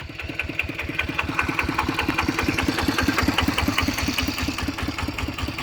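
A walking tractor sits idling after dropping into a hole on the way to a rice field, its single-cylinder engine chugging in a steady, rapid, loud knock that runs unbroken throughout.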